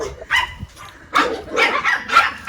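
Protective dogs on a goat farm bark close by, several sharp barks and yips in irregular bursts with brief pauses between them.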